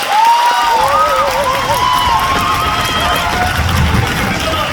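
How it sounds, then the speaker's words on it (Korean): Theater audience applauding and cheering for the orchestra at a musical's closing-night curtain call, a dense, loud crowd roar with whoops and voices rising above the clapping throughout. "우리 오케스트라 팀원들에게 다시 한번 큰 박수를 부탁드립니다"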